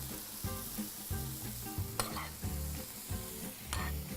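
Sweet peppers and two knobs of butter sizzle steadily in a frying pan, a constant hiss broken by repeated scrapes and knocks of stirring, close by and moderately quiet, with no voices.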